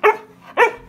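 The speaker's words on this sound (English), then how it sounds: "That's Schnitzel over there, who's barking at Fred because he's got treats." A dog barks twice, two sharp, loud barks about half a second apart, close by with no talk over them.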